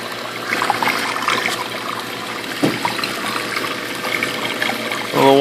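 Water trickles and flows steadily at close range into a 230-gallon aquarium sump in a garage, a soft continuous splashing with a brief gurgle midway and a slight surge at the end.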